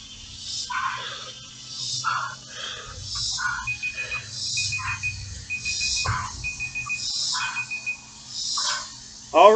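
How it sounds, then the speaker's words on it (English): A 7-minute workout countdown timer at a boot camp class goes off in a run of repeated electronic beeps, with a coach's voice and gym noise underneath. "that is our 7-minute timer"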